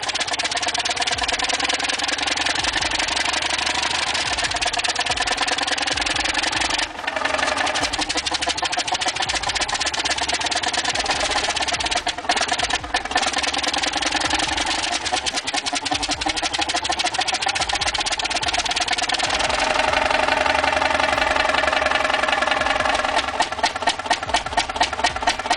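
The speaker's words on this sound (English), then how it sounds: "This Model 32D's massive iron block and slow piston dance create that deep rumble you feel in your bones." A vintage Model 32D engine with a massive iron block and heavy flywheel idles steadily, a continuous loud rhythmic rumble with even piston beats throughout and a slight change in tone near the end.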